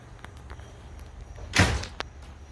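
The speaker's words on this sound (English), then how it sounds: "I've got two screen doors that are locking" Two screen doors closing and locking: a soft clatter, then one loud bang, then a quick latch click, heard against a quiet, faintly humming room, with no talk.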